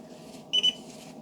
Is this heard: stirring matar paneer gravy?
no